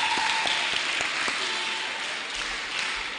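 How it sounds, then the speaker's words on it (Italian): Audience applause at a live Italian stage show: a crowd clapping steadily, with a few sharper individual claps standing out at the start, then a dense wash that eases slightly toward the end. "Applauso, via."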